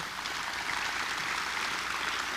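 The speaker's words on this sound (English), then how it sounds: "Please give yourselves a round of applause for doing an amazing job." Conference audience at a disaster-preparedness event applauds, a dense steady wash of many hands clapping continuously for a couple of seconds with no voices standing out.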